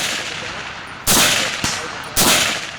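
Two sharp, loud rifle shots from a squad designated marksmanship rifle crack about a second apart at an outdoor military range, each followed by a short echoing tail.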